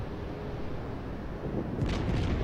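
Heavy naval guns fire a salvo in World of Warships, heard as a deep, booming explosive burst that swells late in the clip over a steady low rumble of battle ambience.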